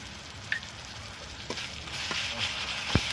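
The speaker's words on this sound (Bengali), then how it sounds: "গরম হয়ে গেছে, আমি পেঁয়াজটা দিয়ে দিলাম, কাঁচা লঙ্কা, পেঁয়াজ।" Onion and green chilli sizzling in hot oil, a soft continuous hiss at moderate distance with a few faint clinks and taps from a spoon or pan, no talking.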